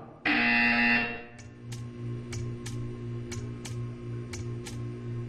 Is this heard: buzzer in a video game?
yes